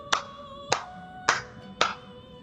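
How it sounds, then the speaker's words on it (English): Four sharp hand claps ring out in the Velvet Room scene of the game Persona 5, evenly spaced about 0.6 seconds apart, loud and close with no talking. "Can I get a hand clap right now?"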